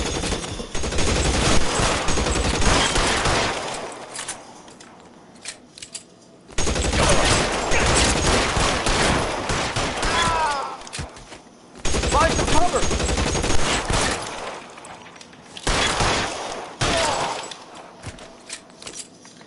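Bursts of automatic gunfire and rapid shots ring out in a PS4 video game police shootout, coming in several loud clusters separated by short lulls, with voices speaking in between.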